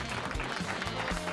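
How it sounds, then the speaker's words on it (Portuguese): A short applause sound effect for a virtual audience: dense, steady clapping that fills the whole moment at moderate volume, with no voices. "com vocês, plateia virtual, aplausos!"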